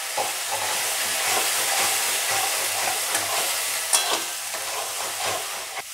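Poppy seed paste for a Bengali chara pona fish curry sautés in a pan, giving a steady, close sizzle with scraping stirs and occasional brief crackles. No voices.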